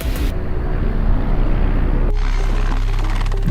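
A military attack helicopter flies during a Bangladesh Air Force exercise, giving a loud, continuous rotor and engine roar with heavy low rumble that shifts sharply in character about two-thirds of the way through.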